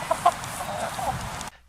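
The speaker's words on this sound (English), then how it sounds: "These are my pet chickens, and yes, they are birds" Pet chickens cluck softly nearby, with a few short clucks near the start over a low murmur of hen chatter, ending in sudden quiet.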